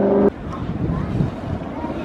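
Strong wind buffets the microphone in a steady low roar at the bow of a ship before a storm, with a brief harmonic tone at the very start before the rumble continues alone.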